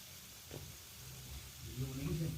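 Soft crackling sizzle of semolina cheese balls frying in oil in a pan, faint and steady, growing slightly livelier toward the end, with a voice speaking quietly over it.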